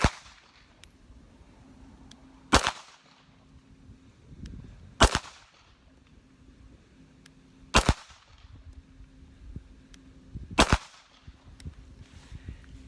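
Smith & Wesson M&P9 2.0 pistol fired slow at 25 yards on a range: four sharp, single shots, spaced a few seconds apart, moderately loud with quiet gaps and no voices.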